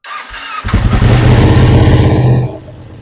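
A motorcycle engine with newly changed wiring cranks about one and a half to two times, then fires and settles into a loud, steady idle close by. The roar drops off near the end.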